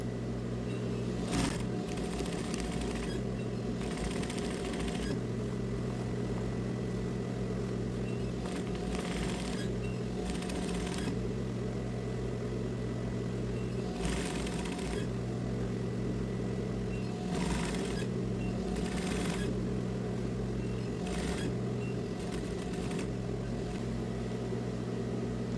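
A sewing machine topstitches a pair of children's tailored Bermuda shorts. Its motor whirs steadily and close for a long stretch, with brief pauses and changes in pace as the fabric is guided.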